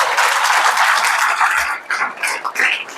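A church congregation claps their hands together in praise during a sermon, a dense, steady wash of many hands filling the room for a few seconds, with no voices over it.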